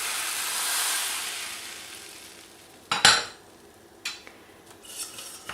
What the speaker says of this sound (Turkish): Ve kızdırmış olduğum tereyağını güzelce ekliyorum.